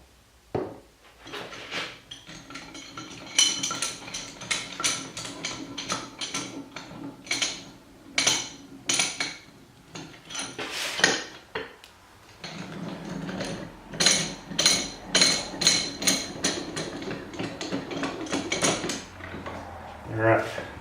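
Oiled jaw of a Littlestown #400 bench vise being opened and closed, producing repeated metallic clicks and scraping clatters in irregular bursts, close and moderately loud, with no speech.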